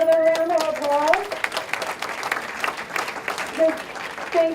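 Audience applause at a Boston community awards gathering for the Latino Legacy Fund, a dense wash of many hands clapping steadily, with a voice briefly heard over it at the start.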